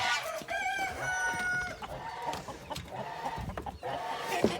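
Farmyard geese and other poultry on a homestead in the morning; honking and clucking calls overlap with some crowing, mixed and fairly close, continuous throughout.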